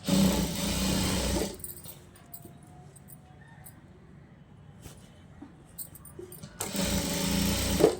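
A sewing machine stitches folded fabric in two close, loud bursts of rapid whirring at the start and end, separated by a quieter stretch of handling noise.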